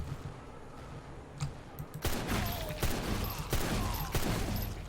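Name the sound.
pistol gunfire in video game MRO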